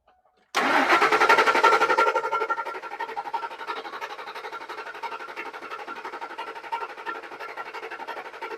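A 2003 Ford F150 with the 4.6L two-valve V8 and a misfire fault cranks steadily, a loud initial surge settling into a sustained, even churning close by without catching.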